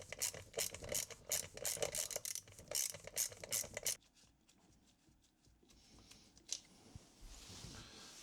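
Bolts being loosened and backed out of the shifter bracket on a VW Golf Mk2, giving a run of quick close ratchet clicks followed by quieter tool rattles and a sharp metallic tap.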